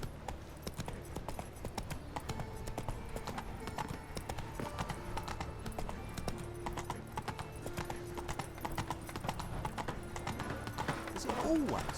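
Roach the horse trotting in The Witcher 3 video game, a steady clip-clop of hoofbeats running throughout at moderate distance, with a voice talking over it and a brief whinny near the end.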